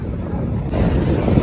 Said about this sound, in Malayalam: നല്ല കാറ്റടിക്കണ്ട്.